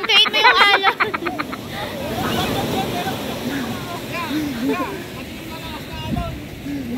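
Surf washes steadily onto Baler beach in the Philippines, a constant broadband roar beneath loud, excited shouting and chatter from several people close by.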